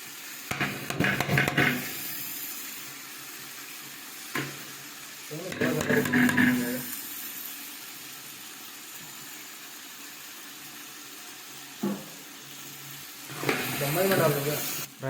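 Ghee meets a hot pan of veg dum biryani, setting off three loud, close bursts of sizzling and frying, each fading back into a quieter steady hiss.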